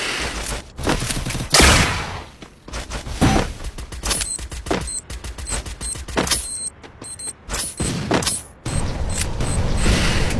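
A Desert Eagle pistol fires in the Free Fire video game in a rapid series of loud, sharp shots that come in bursts with brief pauses between volleys.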